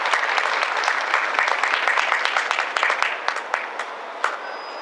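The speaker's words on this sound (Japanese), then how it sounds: "皆さん拍手お願いいたします。" Audience applause at a Christmas concert at Tokyo Station, a dense, steady wash of many hands clapping at close range, lasting throughout without any voices.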